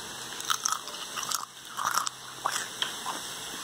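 Homemade fig banana chips are bitten and chewed up close, with several sharp, dry crunches in an uneven rhythm and short pauses between bites.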